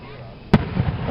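A single sharp firework explosion bangs close by at a July display in Tri-City, Kentucky, trailing into crackling rumble while people chat in the background.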